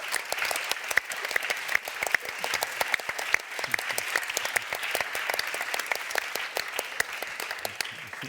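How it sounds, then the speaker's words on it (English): A debate audience at an Oxford-style event applauds the winners with sustained, dense clapping, many hands at once, steady and fairly loud for several seconds, with no voices rising above it. "Congratulations and a big applause."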